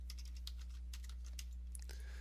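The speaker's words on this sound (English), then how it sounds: "Hit tab, type in my hours." Quick, irregular clicks of fingers typing on a computer keyboard while entering text into a Word document, close and fairly crisp over a steady low hum, with no talking.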